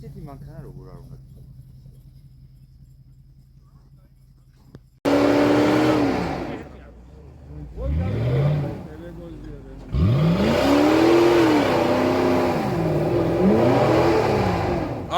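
A car engine revs hard in repeated rising and falling bursts, loud and close after a quiet opening, with brief drops between pulls and a possible tire squeal.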